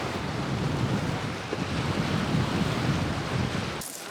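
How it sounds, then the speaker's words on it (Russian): Sea wind blows hard and steady across a shell beach at high tide on a cool day, a continuous roaring rush with surf mixed in that cuts off abruptly near the end. "И ветер с моря прям такой."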